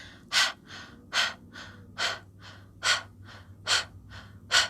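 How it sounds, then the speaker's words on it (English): Rhythmic panting breaths pushed out through the mouth in a breathing exercise, about a dozen sharp, evenly spaced exhalations, close and clear with no talking. "it's easier to do somewhat of a panting out of the mouth."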